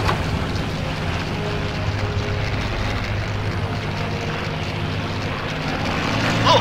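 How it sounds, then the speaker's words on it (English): Fighter plane engines in the World War II air combat video game Dogfight 1942 produce a loud, continuous propeller drone that holds steady throughout, with no voices. "Look, enemy fighters!"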